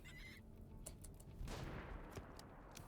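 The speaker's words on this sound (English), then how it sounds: "Uh-oh, I hear gunshots." Gunfire in the colony-building video game RimWorld: several sharp, scattered shots crack out at uneven intervals, fairly faint and distant over a rough background noise.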